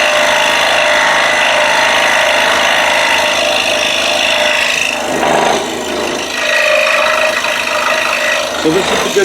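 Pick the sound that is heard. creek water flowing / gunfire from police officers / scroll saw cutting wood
scroll saw cutting wood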